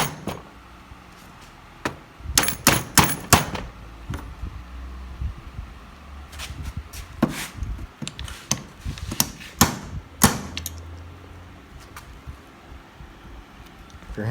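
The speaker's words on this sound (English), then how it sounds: "if you're hammering on something, it's better on a table, do it over the leg" Sharp metallic taps and clanks ring out in irregular clusters, some quick bursts of several strikes, separated by quieter pauses, nearby with no talking.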